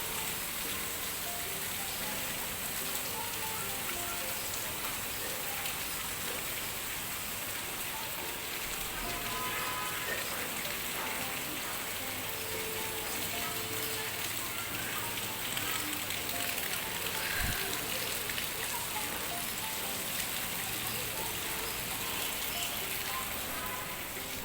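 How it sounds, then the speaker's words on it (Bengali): Heavy rain falls outside a home, heard from indoors as a steady, dense hiss of drops that holds at an even level for the whole stretch. "হ্যাঁ, বৃষ্টি অনেক বাড়ছে"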